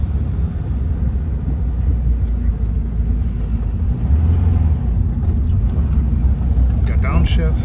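A 1979 Volkswagen Super Beetle Cabriolet with 15,000 original miles drives along, its engine a steady low rumble that shifts pitch briefly around a downshift, heard from inside the car under continuous talking.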